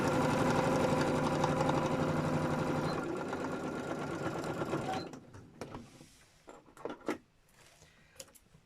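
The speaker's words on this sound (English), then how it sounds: "I'm just going to stitch these box corners" A sewing machine stitches the corners of a felt box, running in a steady loud whir for about five seconds, then stops and leaves scattered handling clicks and rustles.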